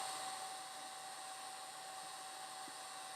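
A hair dryer runs steadily and fairly loud while drying a watercolor painting on canvas, a continuous even whine with a sustained tonal hum, no pauses and no voices.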